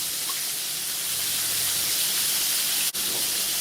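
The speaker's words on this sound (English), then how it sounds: "I'm gonna show you how to do this while those are frying" Steady, close sizzling hiss of chicken wings frying in hot oil, constant throughout with one brief dip near the end.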